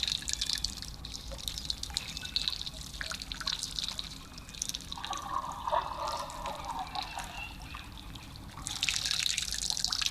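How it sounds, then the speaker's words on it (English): An elephant at a waterhole slurps up water and squirts it, giving soft splashing, dripping and trickling sounds over steady outdoor ambience. "Just listening to the sound of this elephant as he slurps up the water, squirts it into his mouth."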